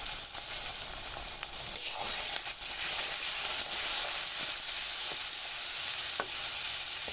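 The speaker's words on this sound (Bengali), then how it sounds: "মশলাটা খুব ভালো করে ভাজা হয়ে গেছে" Cumin, garlic paste, turmeric, salt and dried chili powder fry in hot oil for a kochur loti and rui fish curry, a steady close sizzle broken by repeated stirring scrapes, with no talking.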